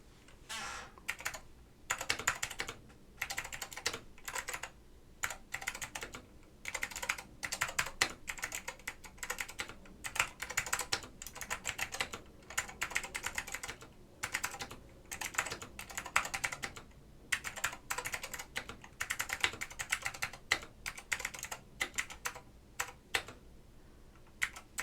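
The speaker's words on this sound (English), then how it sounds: "you can admire my terribly slow typing because I'm very slow typist." Continuous typing on a Northgate Omnikey 101-N keyboard with Alps SKCM White switches, a steady, moderately paced stream of crisp key clicks with brief pauses, close and alone.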